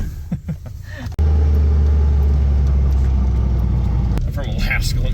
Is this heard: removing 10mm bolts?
no